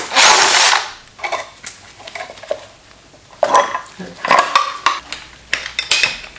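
Motorcycle drive chain being fitted onto a junkyard Yamaha PW80 dirt bike, heard as loud close metallic rattles and clinks of chain links coming in irregular bursts.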